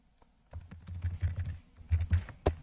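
Fingers type on a computer keyboard in a terminal, quick bursts of close key clicks with short pauses and a sharp final keystroke.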